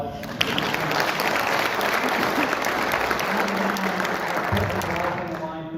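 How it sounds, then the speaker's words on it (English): An audience at a state senate candidate debate applauds continuously, a steady wash of clapping with faint voices underneath and a few louder claps near the start, tapering slightly at the end. "So can we give him an applause?"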